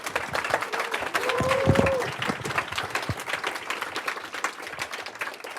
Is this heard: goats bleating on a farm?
no